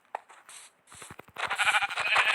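Sheep bleating in a Minecraft-style game, a close quavering bleat rising into a louder, longer pulsing call.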